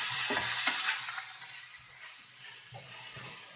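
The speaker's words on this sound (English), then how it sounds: "Have this on medium-high, and I'm just gonna keep stirring it. It's kind of like a stir fry." Leftovers with Italian and garlic seasoning are stirred in a pan over medium-high heat, giving a steady broadband sizzle with scraping stirs and light clinks close by and no talk.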